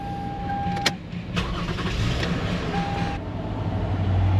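A car engine in a repair shop, one of a Honda, Toyota or Nissan with a no-crank, no-start fault, turns over and catches, then settles into a steady idle with a short beep early on.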